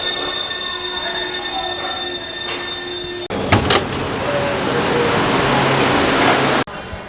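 Train in Milan, Italy: loud rail noise with high squealing wheels and a hum, then a sudden surge of rushing, rumbling movement that cuts off abruptly, like a door sliding shut.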